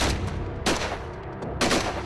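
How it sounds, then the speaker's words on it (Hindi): Gunfire during an army operation against militants in a valley, heard as a few heavy, dense bursts of shots over a constant noisy background, with no voices. "ताबड़तोड़ गोलियां"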